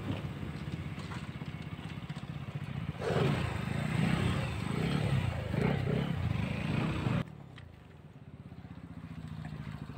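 A KTM Duke 200 and a Bajaj NS200 motorcycle roar in a drag race, a loud engine surge building midway then cutting to a quieter distant drone.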